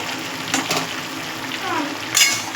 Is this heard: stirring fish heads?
yes